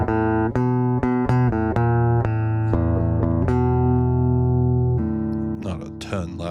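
An electric guitar is plucked in clear, sustained single notes and chords at a steady volume, ending in a brief burst of scratchy noise.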